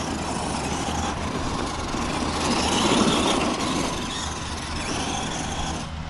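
An FMS 1:10 Ford F100 RC monster truck on a 2S battery, in two-wheel drive, drives over damp dirt with a steady whirring, rasping motor and tire noise that swells midway and then eases. No one speaks.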